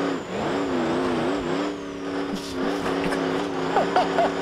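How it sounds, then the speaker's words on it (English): An oil-starved offroad hypercar engine in BeamNG.drive, a strained, wavering drone that rises and dips unevenly with labored revving, loud and near, with brief clunks later. "And the engine is starved of oil."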